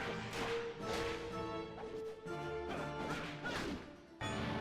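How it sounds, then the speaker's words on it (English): Whip cracks and bone-shattering crashes from Castlevania: Lament of Innocence, a string of loud percussive bursts and smashes layered over dense, haunting game music. "you get some awesome sound effects of the whipping and of the monsters dying"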